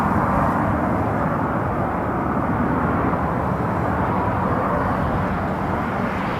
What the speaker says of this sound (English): It's a Cessna Citation